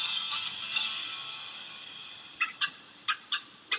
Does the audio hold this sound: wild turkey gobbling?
yes